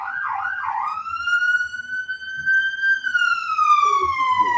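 An ambulance siren wails in a long, steady rising-and-falling tone after a brief warbling start, loud and clear, with faint background noise and a short burst of other sound near the end.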